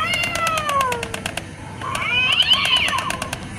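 Halloween animatronic cat decoration in a Home Depot store letting out two drawn-out electronic meows, one after the other, over steady store background noise.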